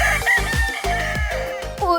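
An imported Filipino rooster crows loudly and close by, a sustained cock-a-doodle-doo with strong harmonics, with a brief cluck near the end and no talking.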